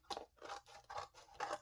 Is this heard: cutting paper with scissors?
yes